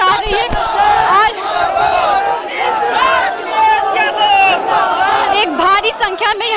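Large crowd of protesting students at police barricades in Lucknow, loud overlapping shouting and chanting voices with crowd babble throughout.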